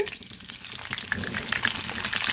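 Curry leaves hit hot oil with a loud, busy crackle and spatter, a dense burst of frying noise lasting a couple of seconds.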